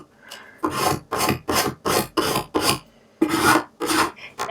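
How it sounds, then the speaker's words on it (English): A burnishing tool rubbed firmly over vinyl on a Halloween craft sign, making about nine rhythmic, close scraping strokes with short pauses between them, with no talking. "Now I'm going to make sure I burnish everything down, particularly the edges."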